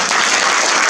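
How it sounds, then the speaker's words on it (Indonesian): A short burst of dense, loud applause from an audience fills the moment evenly, with no voices standing out above the clapping. "Tepukan untuk dia tu."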